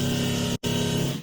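A super wide stereo signal made with a Haas delay and a utility widener: a dense, sustained full-range sound that cuts out for an instant near the middle, then returns.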